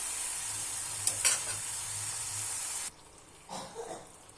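Sauce for cabbage Manchurian sizzles in a pan with soy and tomato sauce, a steady hiss with a few spatula scrapes, then water goes in and the sizzle drops abruptly quieter with brief bubbling stirs.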